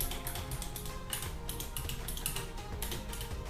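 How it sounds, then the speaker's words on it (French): A noisy computer keyboard clatters under fast typing, dense irregular keystrokes running nonstop at close range, fairly quiet and with no speech. "Désolé pour mon clavier qui fait un peu de bruit."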